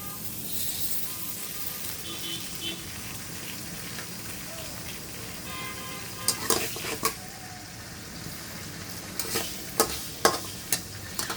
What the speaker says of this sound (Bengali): আলুটা আমি ভেজে নেবো